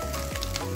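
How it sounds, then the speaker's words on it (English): Breadfruit chips fry in hot oil with a loud, continuous sizzle and crackle, heard close up and without voices. "while the second batch is frying"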